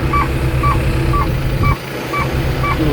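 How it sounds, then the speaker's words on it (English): A Linelift DHT120 truck-mounted lift sounds its auto stow alarm, a loud repeating electronic beep pulsing about twice a second over a steady engine rumble, with no talking. "You'll hear this alarm saying that auto stow function is activated."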